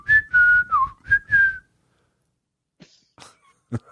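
A person whistles a short melodic phrase of several notes, close and clear, followed by a few faint soft sounds and quiet pauses.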